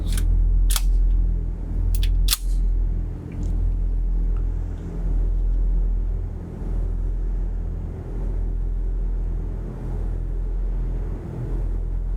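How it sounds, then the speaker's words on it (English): Cartridges being pressed into a Tokarev TT-33 pistol magazine at an outdoor range, a few sharp metallic clicks spaced apart over low rumbling background noise. "I'm gonna load up another magazine"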